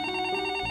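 A cell phone rings with a short, bright electronic tone, steady and close, in a brief dramatic burst.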